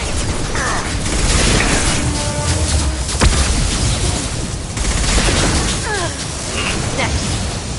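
Mass Effect Legendary Edition combat: a dense barrage of gunfire and a flashbang pop with sharp cracks and booms, running steadily under character voices.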